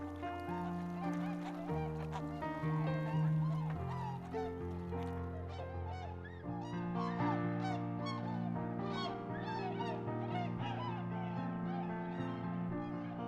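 Huge flocks of waterbirds at the Achikolsky Lakes in Dagestan, Russia, calling continuously, a dense wash of honking and gabbling geese and ducks layered under sustained music throughout.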